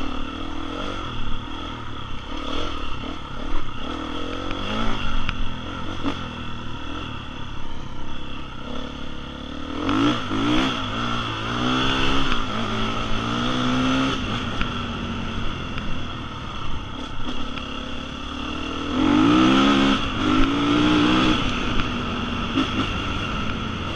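A 2020 KTM 350 EXC-F dirt bike engine revs and climbs through gears while riding, loud and close, with repeated rising surges around the middle and end over rough wind and clatter.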